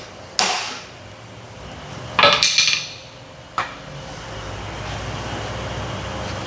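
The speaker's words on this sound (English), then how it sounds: "I'll take my socket that I used to take the nut off with and hold it as square as I can and give it a tap" A metal socket is tapped against a part on an Altec bucket leveling cylinder during a reseal: a few sharp metallic knocks, including one quick double strike, ring close by over a steady background hum.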